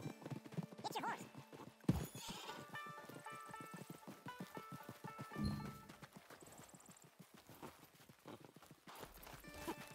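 A horse in Red Dead whinnies loudly while hooves clop in a steady walking rhythm, with people talking over the sounds.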